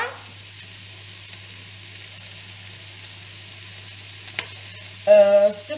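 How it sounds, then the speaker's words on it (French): Garlic sizzles faintly in a pan as it is stirred, a soft steady hiss, then a brief louder burst of frying near the end. "notre ail, et on remue, on décolle sur les côtés"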